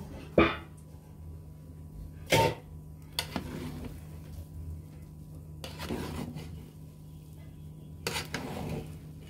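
Lid lifted off a pot of bhuna khichuri and the rice stirred, a few sharp metallic clanks of lid and spoon against the pot, then soft scraping stirs with a faint low sizzle underneath, no talk.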